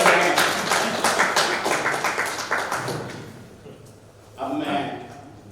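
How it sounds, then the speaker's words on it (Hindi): An audience claps together in a dense, steady burst of applause that tapers off midway, then a short fresh patter of clapping rises near the end. "इसलिए एक बार फिर ताली बजाएं।"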